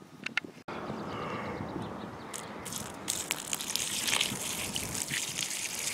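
Liquid poured over a plant's soil outdoors, heard as a steady, moderately loud splashing trickle lasting several seconds after a couple of soft knocks at the start.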